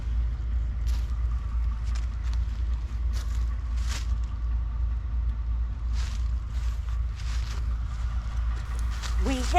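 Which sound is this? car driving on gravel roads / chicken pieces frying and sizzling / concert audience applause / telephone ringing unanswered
car driving on gravel roads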